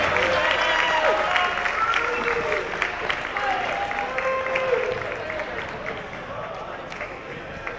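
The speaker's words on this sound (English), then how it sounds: "please give them a round of applause" An audience at a military academy talent show gives a group a round of applause, a full, steady roar of clapping and crowd noise that eases gradually toward the end.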